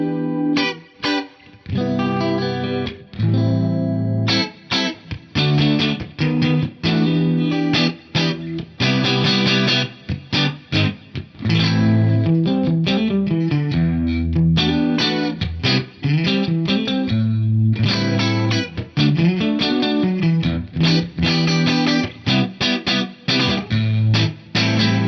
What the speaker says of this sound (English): This is one of my favorite flange tones.